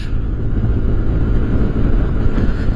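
Steady, loud rush of wind buffeting a microphone on a moving motorcycle, a constant low roar with no breaks and no voices.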